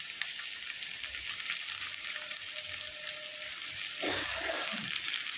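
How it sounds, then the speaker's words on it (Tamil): Onions and dried red chillies sautéing in a pan for chicken uppu curry, a steady close hiss of frying with a brief clatter of stirring near the end. "இப்போ இதை நல்லா வதங்கட்டும்"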